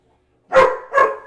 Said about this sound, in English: We know we have barking.